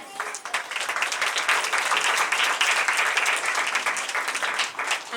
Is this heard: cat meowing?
no